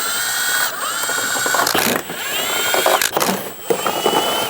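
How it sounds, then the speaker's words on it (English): Ratchet wrench with an 11mm socket loosening heat shield nuts under a 2011 Dodge Durango 5.7L V8, giving quick close metallic clicking bursts separated by brief pauses, loud and without talk. "We're gonna use an 11mm socket and remove them."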